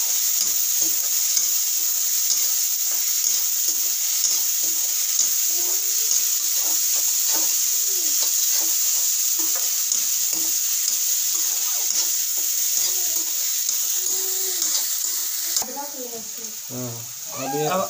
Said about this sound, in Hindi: तड़का लगाया जा रहा है प्याज और शिमला का।